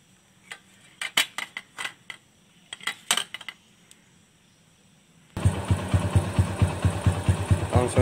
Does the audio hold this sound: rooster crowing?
no